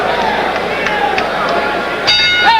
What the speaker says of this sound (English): Bell ends round 3